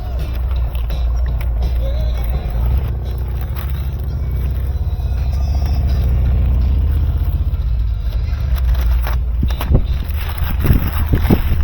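Wind blows steadily outdoors beside a car during a headlight restoration on a 2018 BMW X1, a continuous low rumble and buffeting that swells midway and stays loud with occasional gusty bursts, no talking.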